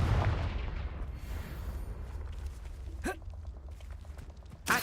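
A Confringo blast spell in Hogwarts Legacy lands as sharp, booming explosive bursts: one opens the clip, another cracks out near the middle, and a third hits at the end, with rumbling debris in between.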